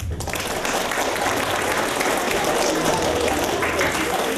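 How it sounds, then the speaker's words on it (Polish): A cabaret audience breaks into loud, dense applause for a comedic performer, continuous crowd clapping filling the whole stretch at close range. "Brawa, proszę"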